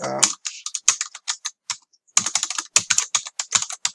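Someone types a message on a computer keyboard in hotel check-in software, sending out crisp, close key clicks in quick bursts broken by one short pause, with no talking.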